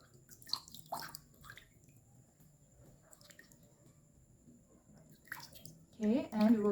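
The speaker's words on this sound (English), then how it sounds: "Okay, so now I'm going to rinse the baby's head." Water trickles and drips while a newborn's head is rinsed during a bath, soft intermittent splashing near at hand, with a voice speaking briefly at the end.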